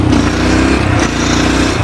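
A clutch dirt bike's engine drones loudly and steadily while being ridden in fourth gear, with a buzzy mid-range tone and a slight rise in pitch, heard close throughout with no talk.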